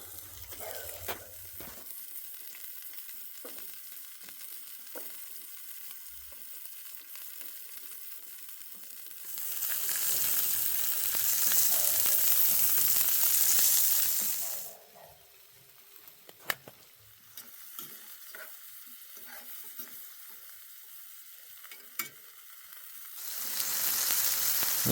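Squash frying in hot oil on a hot tent wood stove, a steady loud sizzle that swells and fades in bursts with occasional clinks of utensils.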